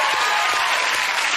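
A studio audience applauds and cheers in a loud, dense, continuous wash of clapping, up close and sustained with no breaks.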